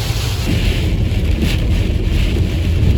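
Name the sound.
strong wind and rain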